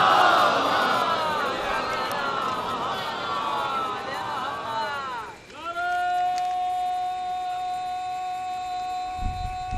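Large crowd at a religious celebration, Jashn-e-Qayam at Rauza-e-Kazmain, calling out a loud collective salawat slogan, a dense roar of many voices that swells, dips briefly, then settles into sustained tonal chanting.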